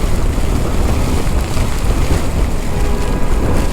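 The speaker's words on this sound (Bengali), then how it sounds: "আর বাতাস জোর" Loud, buffeting gusts of strong wind during heavy all-day rain in Bangladesh, rumbling against the microphone with a steady wash of rain noise underneath and no speech.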